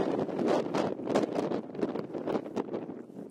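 Wind gusting on a mountain trail during a March hike, buffeting the microphone in loud, rapid rushing bursts that rise and fall throughout with no talk.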